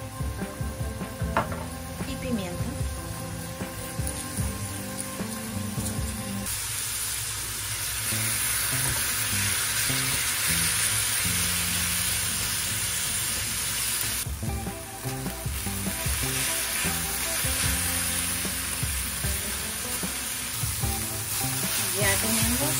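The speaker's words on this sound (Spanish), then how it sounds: "Y la vamos a saltear" Beef fillet seasoned with salt and pepper sizzles steadily in oil in a pan, a continuous close frying hiss with scraping and clattering from stirring throughout.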